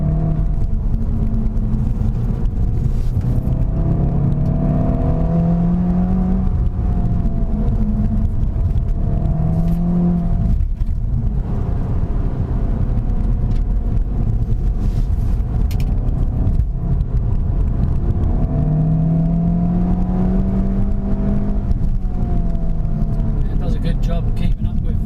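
A SEAT Leon Cupra 300 hot hatch pulls uphill in third gear. Its engine gives a steady, loud droning rumble with slowly rising and falling pitch, alongside constant road and wind noise from inside the car.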